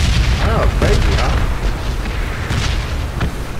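Explosions boom repeatedly through a video game battle in a war-zone setting near water and a bridge, dense low rumbles layered over continuous background noise and voices.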